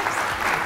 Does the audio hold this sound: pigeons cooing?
no